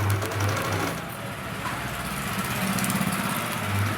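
A sewing machine stitches a dress top, a steady fast mechanical whir with a rapid needle rhythm that runs throughout, close and fairly loud, with small surges in speed.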